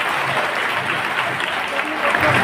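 Loud, steady applause from an audience at a public welcome event for a guest, sustained throughout as a continuous wash of clapping with no pauses.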